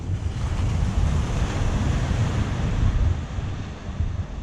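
Rolling surf and gusty wind at John Smith Bay, Bermuda, a loud continuous roar with heavy wind buffeting the microphone and no voices.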